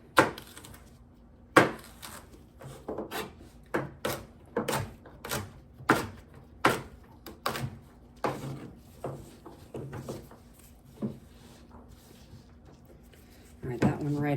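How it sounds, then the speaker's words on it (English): Knife chopping through a trimmed cactus pad on a cutting board: a string of sharp, close, irregularly spaced thuds and cuts, roughly two dozen strokes, with a denser flurry at the end. "And we'll start chopping you up."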